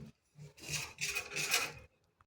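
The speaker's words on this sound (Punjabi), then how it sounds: "ਕੱਪੜੇ ਨਾਲ ਸਾਫ਼ ਕਰ ਲੈ ਇਹਨੂੰ ਸਵਾਰ ਕੇ" A cloth wipes a wire grille on a chicken coop, giving a close, scratchy rubbing burst of about a second and a half with a short tap at the end.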